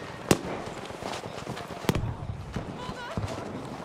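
Sniper rifle gunfire in Battlefield V multiplayer, two sharp, sparse shots well apart and a fainter third crack, each a loud isolated report over a low game ambience.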